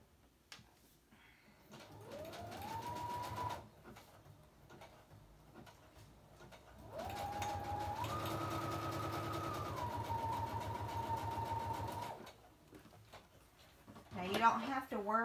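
A sewing machine stitches thread down the front of a paper envelope, running in two sustained whirring bursts with rising pitch as it speeds up, the second longer, with quieter pauses between and a brief voice near the end.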